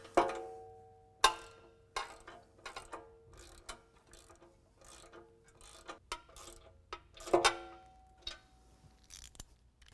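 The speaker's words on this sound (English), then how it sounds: "we're just going to put a washer and one of the lock nuts on there. Go ahead and tighten that up." A lock nut and washer are tightened on a bumper bolt while installing a stubby front bumper on a Jeep JL, sharp ratchet clicks in quick bursts with pauses, close and fairly quiet, no talk.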